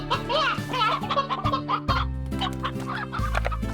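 Chickens in the video game Slime Rancher cluck and squawk loudly in quick, excited bursts over a backing of game music.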